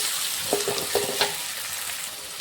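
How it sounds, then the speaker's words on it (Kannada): Green chillies and tomatoes fry in hot oil in a pan, a steady close sizzle broken by a few short scraping stirs of a spoon, with no talking. "ಇವೆರಡು ಹಾಕಿ ಸ್ವಲ್ಪ ಟೊಮೊಟೊ ಮೆತ್ತಗಾಗತ್ತನ ತಿರ್ಬೋದು."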